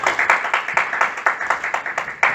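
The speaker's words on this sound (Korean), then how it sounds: "박수를 한번 해주세요." An audience claps in a steady, rhythmic beat at a church gathering as a guest is invited forward, the sharp claps loud and close, with no talk over them.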